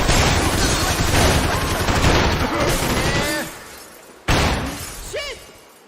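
Gunfire and shattering glass from the Max Payne 3 video game, a dense burst of shots and breaking debris under a shouting voice, followed by a sharp loud crack near the end.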